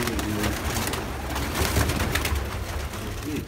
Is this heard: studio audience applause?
no